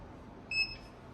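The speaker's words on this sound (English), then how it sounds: "Once it beeps, you want to remove the shirt from the press" A heat press gives a single short, faint electronic beep as its pressing timer ends, over quiet background hum.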